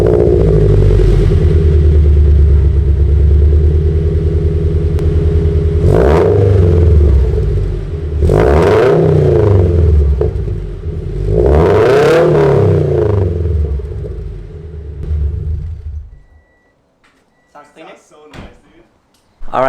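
A car fitted with a new front exhaust pipe idles with a deep burbling drone, then revs sharply three times in rising, falling sweeps, loud and close, before cutting off into near silence with faint clatter.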